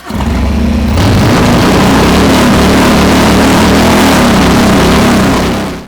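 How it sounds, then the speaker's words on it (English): A Harley motorcycle fitted with a Bassani 2-in-1 exhaust, idling with a loping rumble and then revved hard into a loud, sustained, gruff roar that holds steady before easing off at the end, very close. "I'd love nothing more for you to rev my bike."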